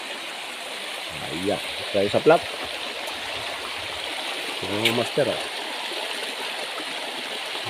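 River stream at Bilog Falls flowing steadily as a constant broadband wash in the background, with people talking over it at intervals.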